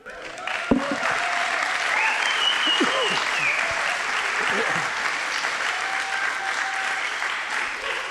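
A live audience claps and cheers continuously, a dense, loud wash of applause with scattered shouts and voices mixed in throughout.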